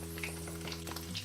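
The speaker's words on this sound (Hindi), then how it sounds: "ये इस तरह से हम ऑयल में मिक्सचर को डालेंगे और फिर हम 1-2 मिनट एक साइड से पकौड़ों को पकने देंगे" Pakora batter mixture frying in hot oil gives a soft, faint, continuous bubbling sizzle over a low steady hum, with no voices.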